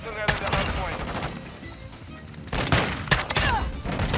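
Semi-auto KV Broadside shotgun blasts ring out in Modern Warfare 2 multiplayer, several loud booming shots in quick succession among other game gunfire, with a voice talking over parts of it.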